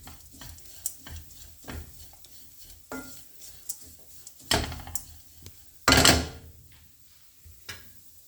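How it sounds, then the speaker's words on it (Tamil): Masala roasting in a pan on a low flame for beetroot poriyal, with soft sizzling, intermittent stirring scrapes and a few louder clanks of utensils against the pan, close by. "இது நல்லா ரோஸ்ட் ஆகிட்டே இருக்குது. மசாலாஸ்காண்டி கொஞ்சம் நான் லோ ஃப்ளேமில் போட்டிருக்கேன்."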